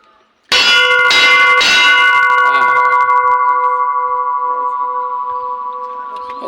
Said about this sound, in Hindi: मंदिर की घंटी बजा दी है